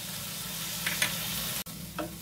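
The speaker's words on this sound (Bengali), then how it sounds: "1 চামচ মতো সয়া সস দিয়ে দিলাম।" A pan of chilli omelette sizzles steadily with a close, even crackle while soy sauce goes in, marked by a few brief bursts and a sharp click partway through.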